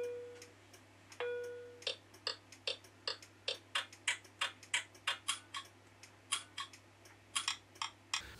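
A motorcycle indicator reminder gadget ticks in a steady, even rhythm, quiet but distinct over a low background hum, and a short electronic beep sounds near the start.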